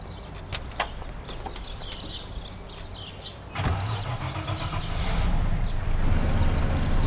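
Car engine in the video game Mafia starting and idling, a low rumble that steps up in loudness midway and keeps growing, with small clicks and mechanical knocks early on.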